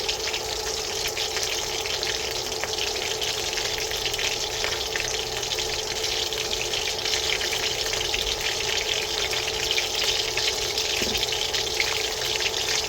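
Beef sizzling in a hot pan for a crispy stir fry, a steady dense frying hiss that stays loud and unbroken throughout with no talking.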